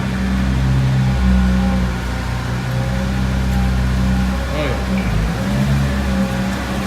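A Nissan GT-R pulls out on a New York City street, its engine a steady low rumble with mild revving under traffic noise, with voices nearby.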